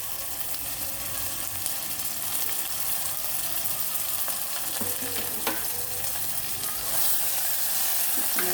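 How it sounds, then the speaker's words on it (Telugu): Ginger-garlic paste sizzles and crackles steadily in hot oil with browned onions in a pan, a continuous close frying hiss with occasional stirring scrapes. "ఒక్కసారి కలిపి అల్లం వెల్లుల్లిపాయ పేస్ట్ వేద్దామండి"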